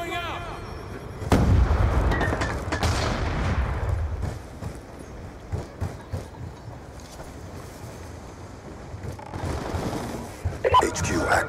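A sticky grenade explodes in Call of Duty: Ghosts, a loud booming blast followed by a rumbling tail and scattered gunfire, with rising and falling battle noise afterward.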